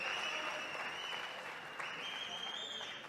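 Crowd at a Copa Podio grappling match in Buenos Aires applauds steadily, a dense, sustained wash of clapping heard from a distance throughout, with a faint whistle riding on top.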